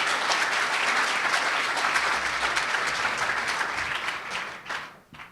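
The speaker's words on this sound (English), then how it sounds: "Let's have a big round of applause for them." Sustained applause from an audience at an October meeting in Charleston, a dense even wash of clapping that holds steady and then tapers off toward the end.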